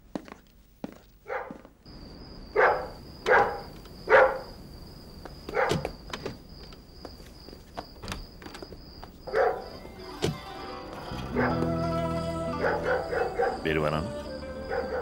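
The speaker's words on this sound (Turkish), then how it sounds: "Köpekler yabancı gelmese böyle havlamazlar." Dogs bark at a stranger arriving at a house, giving single and paired barks spaced a second or two apart, then a quicker run of barks near the end. Footsteps and a steady high whine run underneath.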